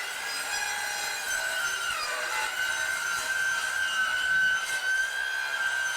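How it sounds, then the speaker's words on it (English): Circular saw cutting strips from 9mm plywood in a camper van conversion on a Vauxhall Vivaro, a steady continuous whine and rasp running loud and close throughout, with a slight dip in pitch partway through the cut. "So this is just a circular saw, which should take that all the way off."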